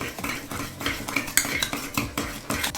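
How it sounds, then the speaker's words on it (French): A spoon scrapes and clinks steadily around a bowl while sugar and butter are mixed together, with the stirring strokes close and moderately loud and a light metallic tapping throughout. "une cuillère à soupe de sucre, une cuillère à soupe de beurre. On mélange"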